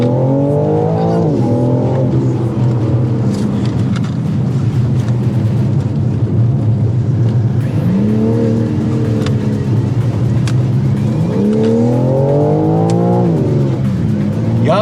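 A BMW M4 Competition engine revs and surges through corners near Mahabaleshwar, rising and falling loudly with repeated acceleration sweeps, close by and continuous.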